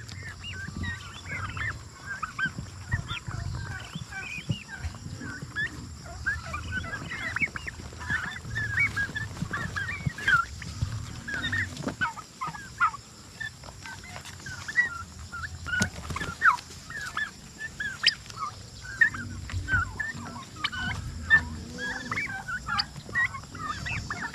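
Turkeys kept outdoors on a small farm gobble repeatedly at moderate distance, the bursts scattered irregularly over a faint rural background with occasional clucks and rustling.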